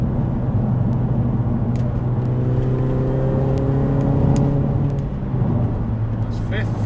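MINI Cooper S R53 JCW GP1 engine accelerating from inside the car, a loud steady drone whose pitch climbs smoothly through the gears, with a low road rumble underneath.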